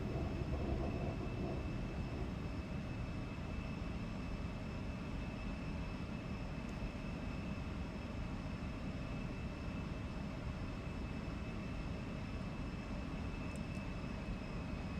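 Embraer E190 jet engines during climb in the X-Plane 12 flight simulator, a steady continuous roar with a faint high whine, even and unbroken throughout.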